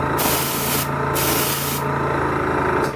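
An airbrush sprays paint onto a Robby the Robot model in close, loud hissing bursts, with short pauses between passes.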